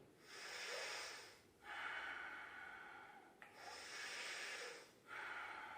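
Slow, deep breaths are drawn in and pushed out while a warrior yoga pose is held: about four long, airy breaths, close and quiet, each with a soft hiss and short pauses between them.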